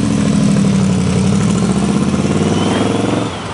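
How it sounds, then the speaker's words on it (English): A Studebaker R1 289 V8 fitted with a Paxton supercharger runs loud and close, its engine drone overlaid by a rising blower whine before the revs drop off near the end. "hear that supercharger whine"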